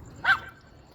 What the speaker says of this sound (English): I'm glad the dogs are barking.